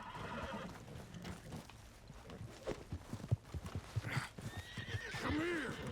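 Horse hooves clip-clop in an uneven rhythm, then a close, clear neigh rises near the end, from a horse in the Red Dead Redemption 2 video game.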